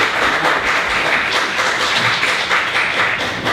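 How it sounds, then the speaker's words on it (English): Audience applause for a panel of speakers at a community event on domestic violence: a dense, steady wash of many hands clapping at once, continuous and fairly loud for the whole stretch, with no talking over it. "let's give a round of applause for our panelists today"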